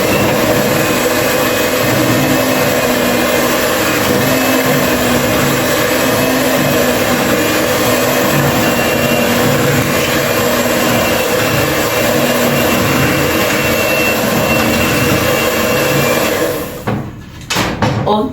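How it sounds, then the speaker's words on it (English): Electric cake mixer stirring red velvet cake batter of eggs and vegetable oil, a loud steady motor whir running close and continuous before cutting out near the end. "So I'm going to use my cake mixer to just stir for a while."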